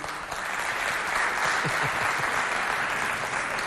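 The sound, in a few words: audience applause for Technidef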